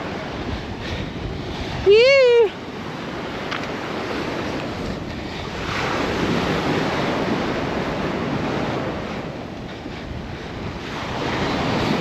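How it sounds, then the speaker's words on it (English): Waves surge onto Marrowstone Island's North Beach in Puget Sound at high tide with a big swell running, a steady broadband wash under gusty wind noise, with a short voiced word briefly near the start. "you can see how high the waves actually get when it's big tides and big surge coming in"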